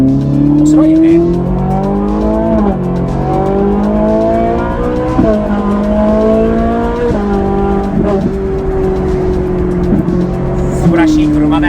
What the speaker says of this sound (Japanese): 素晴らしい車だよ、フェラーリは。